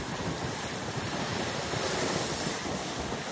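Rough Florida surf roaring constantly with heavy wind buffeting the microphone, a loud, dense wash of crashing waves without pause.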